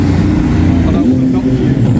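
Race cars roaring past on the track at Coventry Motorfest, a loud, steady engine drone with a rising note midway, heard from trackside over a busy crowd.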